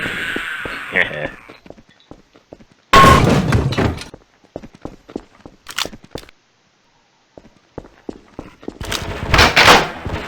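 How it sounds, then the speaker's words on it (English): Gunfire in the game Half-Life: Source sounds as sharp, loud bursts with bangs, thuds and clanks. Sudden impacts are separated by quiet gaps, and a person talks between them. "Ooh, I hear gunshots."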